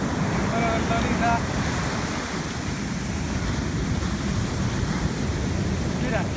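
Waves roll onto a beach during shore fishing for snook, making a steady, continuous surf roar that fills the whole stretch, with brief faint voices in the background.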